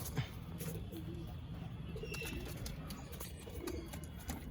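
Soft, low pigeon coos repeat faintly in a pigeon loft against a steady background hiss, with occasional light clicks and rustles.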